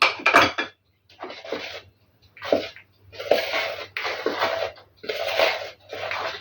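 A spoon scrapes around a bowl of charlotte cake batter with baking soda and citric acid in a series of short, rhythmic strokes with brief pauses between them, close by and moderately loud.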